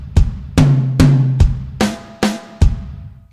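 Drum fill on an acoustic kit: bass drum hits, two high tom strikes with ringing pitched tone, then bass drum, snare, snare and bass drum, seven sharp loud hits close up in a steady rhythm, no talking.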